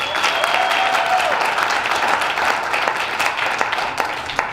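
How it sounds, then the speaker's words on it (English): A live improv comedy audience applauds loudly and steadily for two performers. The dense, close clapping holds at full strength for the whole stretch, with a brief whistle-like tone early on. "A round of applause for Walker and Liliana, please."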